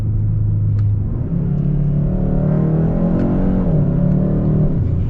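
A 2021 Hyundai Sonata N Line under hard acceleration, heard from inside as a loud, close engine drone that rises steadily in pitch over a deep road rumble, with no one speaking.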